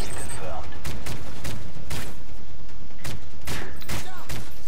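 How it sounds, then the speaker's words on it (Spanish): Rapid gunfire in Call of Duty: Modern Warfare 3, P90 submachine gun shots landing a headshot, a series of sharp loud bursts repeating across a few seconds over dense game background noise, with a voice talking underneath. "Boom, headshot."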